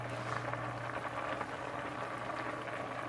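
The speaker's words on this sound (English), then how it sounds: "The chickpeas is on the fire" Chickpeas boil in a pot over a fire, a continuous soft bubbling and hiss with a low steady hum beneath it.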